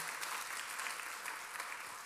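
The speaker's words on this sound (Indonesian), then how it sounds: "Boleh tepuk tangannya yang paling meriah buat Yesus Tuhan kita" Church congregation applauding for Jesus during a Christian sermon, a steady wash of many hands clapping that stays even and sustained throughout, fairly distant and moderately loud.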